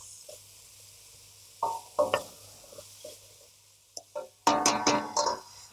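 Oil sizzles and spits around gluten-free fritters frying in a pan on high heat, with short bursts of crackling and clattering, growing louder and busier toward the end.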